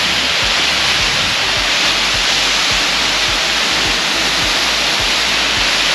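Steady, loud rush of falling water at DeSoto Falls in Alabama, heard from the side of the waterfall as a dense, continuous roar with no voices.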